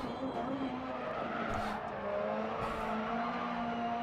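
A Super 1600 rallycross car in DiRT Rally drones steadily at high revs through a fast left-hander, with tire skidding and brief scrabbling bursts over the engine, loud and continuous without speech.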